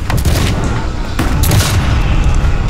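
Battle gunfire at Gettysburg: dense, rumbling volleys and booming reports rolling together into a continuous loud barrage with sharper cracks on top.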